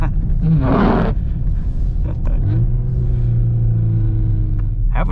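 A 2022 Volkswagen Golf R with DSG gearbox and all-wheel drive, running Pirelli Sottozero tires, drives hard through snow: a loud, steady engine roar and rumble, with a rising rev partway through.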